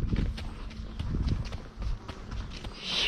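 Horse hooves clopping on an arena surface during a riding lesson with slalom work, a steady walking rhythm of soft thuds with faint background noise and a brief higher rustle near the end.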